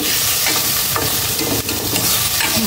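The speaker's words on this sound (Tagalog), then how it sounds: "Gisa ko na rin tong tomato, tapos isang siling haba" Tomato and long chili sauté in a hot pan with a loud, steady sizzle, close by, broken by a few stirring scrapes and knocks; no voices.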